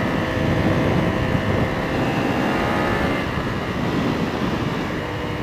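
A Ducati V4R or BMW HP4 superbike roars steadily while being ridden, a loud, dense engine drone with wind rush that holds a constant level throughout, close and with no voices.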